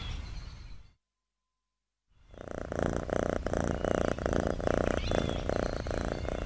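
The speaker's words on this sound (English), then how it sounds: "It's Otto. Meow." A cat purrs in a low, steady rumble close by, starting after a short silence and continuing evenly to the end.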